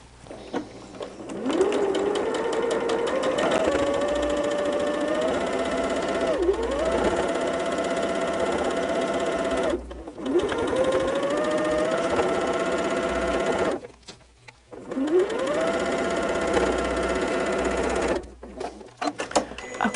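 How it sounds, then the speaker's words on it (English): Sewing machine stitching a quilt block, running in steady whirring runs that rise in pitch as it speeds up, broken by several brief stops, close and clear. "Check our design really quickly, and let's sew it."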